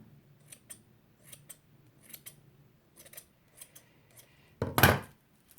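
Scissors trimming a yarn pom-pom: a run of soft, crisp snips in close succession, faint and near, ending in one louder, rustly cut.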